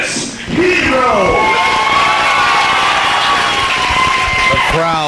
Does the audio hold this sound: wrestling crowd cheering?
yes